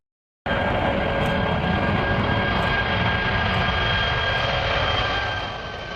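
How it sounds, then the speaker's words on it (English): Airbus A340-600 four-engine jet airliner, a steady loud roar with a high tonal whine that begins abruptly and holds for several seconds before easing slightly at the end. "Airbus A340-600."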